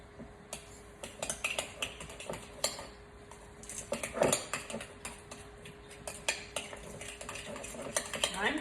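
A spoon stirs a ricotta filling seasoned with salt and pepper, with repeated close scrapes and clinks against the bowl arriving in an irregular rhythm, some louder knocks among softer taps.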